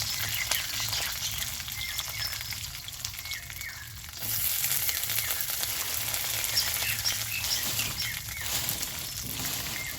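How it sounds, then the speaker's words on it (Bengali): Peanuts fry in hot mustard oil, giving a steady, close crackling sizzle with fine popping throughout and no voices. "তেলটা গরম হয়ে গেলে ভেজে নেব চীনা বাদামগুলো।"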